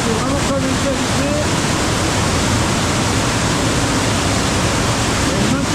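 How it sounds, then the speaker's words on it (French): An underground river flowing through lost tunnels gives a loud, continuous rushing roar that fills the space, with a faint voice briefly audible near the start. "C'est une rivière souterraine là, là c'est clair."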